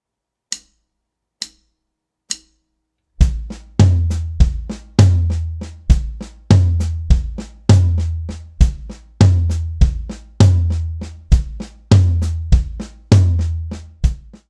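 A drum kit plays a slow nine-stroke triplet pattern, kick drum alternating with left and right hand strokes and soft snare ghost notes. A few faint clicks open the passage, then a steady, loud, close groove of deep kick thumps and crisp snare hits follows.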